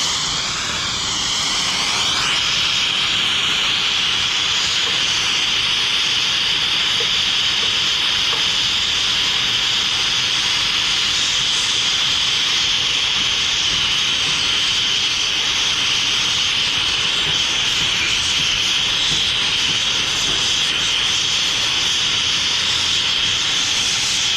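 A torch heating a brazed pipe joint on a York rooftop unit's evaporator coil during replacement, a steady loud roaring hiss that holds evenly throughout, close by, with no talking.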